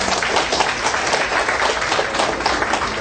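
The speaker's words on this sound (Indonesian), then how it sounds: "Kita tepuk tangan." A hospital anniversary ceremony crowd applauds steadily, a dense wash of many hands clapping at even loudness for a few seconds, close and continuous with no talk.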